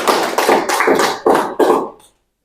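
A lecture audience at a university teaching session claps in five quick rhythmic bursts that end abruptly, leaving silence.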